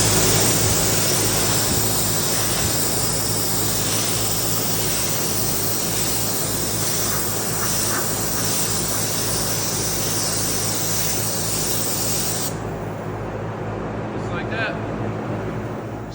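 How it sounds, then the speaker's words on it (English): Spray gun applying DB50 sealer to a 1929 Dodge during a spot repair, a continuous loud hiss running close for most of the stretch before cutting off near the end, with faint handling noises after. "So right now I've got some DB50 in the gun. We're gonna go ahead and seal this."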